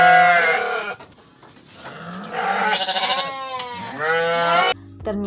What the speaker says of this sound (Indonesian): kambing itu berbunyi